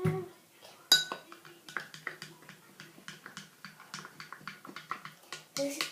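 A spoon clinks and taps repeatedly against a glass while a gross shake made with hand soap is mixed. The clinks are quiet and irregular, with a sharper knock near the start and a louder clatter at the end.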